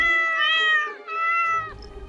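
Cat meowing close up, two drawn-out, loud, tonal meows in quick succession with a short gap between them, alone.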